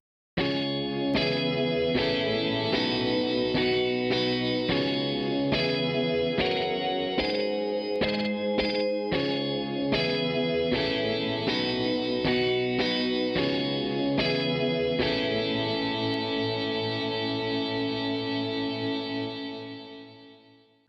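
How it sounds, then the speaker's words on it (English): Distorted shoegaze guitar power chords from a sample library, loud dense strums struck in a quick rhythmic run with a wash of chorus and reverb, ending on a long sustained chord that fades out. "We've also got power chords in here too."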